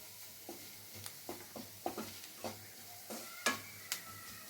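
Flour frying in a pan for a paneer dish is stirred with a utensil: faint, quiet scrapes and taps in an irregular rhythm over a low steady sizzle, with one sharper clink near the end.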